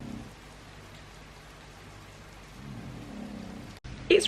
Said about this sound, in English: It's raining, and it's raining a lot